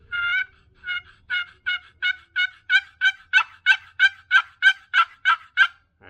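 A custom wooden turkey box call is played in a steady series of about fifteen sharp, raspy yelps that grow louder as they go, heard close-up with no talking.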